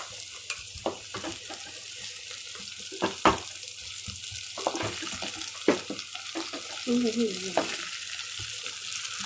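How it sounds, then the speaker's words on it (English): A spice paste for fish curry fries and sizzles in a pan, a steady close hiss broken by clinks and scrapes of stirring and a few brief splashy sounds. "So it's getting fried nicely."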